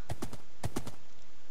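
Horse hooves clop in the Minecraft video game, two quick pairs of close, crisp steps separated by a short gap, then quiet.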